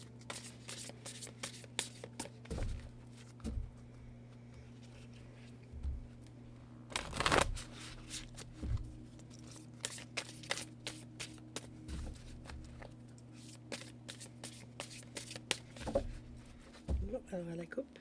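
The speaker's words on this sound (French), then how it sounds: "Je vous laisse vous concentrer pendant que je mélange les cartes." Tarot cards shuffled by hand, a soft, close riffling and shuffling that repeats through the whole stretch, with a few louder rustles and a steady low hum underneath.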